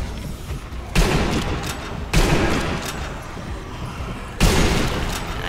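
Gunfire in the Sniper Elite Nazi Zombie Army video game: three loud, booming shots spaced a second or more apart, each ringing out with a rumbling tail over a low background rumble.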